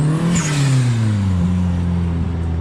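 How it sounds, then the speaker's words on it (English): A Nissan 350Z revs hard and spins its tyres in a burnout, a loud, close engine note that climbs and holds with a whining tone and tyre hiss. "So I just want to burn the tyres off then"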